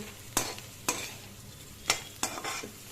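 Tamarind pieces being stirred and sautéed in a pan for coriander chutney, with five sharp scraping strokes of the spoon over a soft background sizzle, close by and with no talk.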